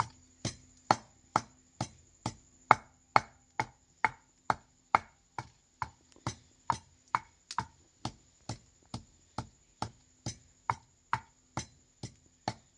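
Mint leaves pounded by hand, a slow steady series of about thirty sharp thuds roughly every half second, close and alone.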